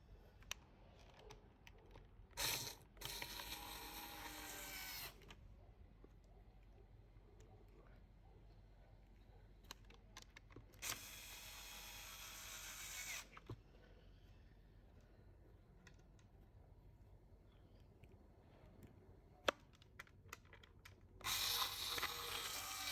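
Screws are driven into a Dyson V8 direct drive vacuum head, heard as several short bursts of close, whirring screwdriver noise with quiet clicking and handling sounds between them.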